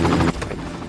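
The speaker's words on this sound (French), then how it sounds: "Ah, mais c'est un hélico." Helicopter in a video game, a steady rotor thrum that is loud for a moment and then drops to a fainter, continuous drone.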